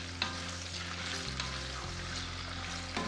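Carrots, peppers and other vegetables fry in a pan with a loud, steady sizzle that fills the moment, broken by a couple of soft stirring knocks, close up and without voices.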